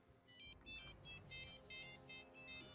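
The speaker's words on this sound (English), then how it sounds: "And we have a phone call" A phone ringtone sounds in a series of about six short, bright melodic bursts in a steady rhythm, fairly loud over a low steady background hum.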